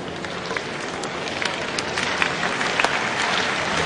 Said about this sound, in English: The Romanians clapping along, urging these judges to hurry up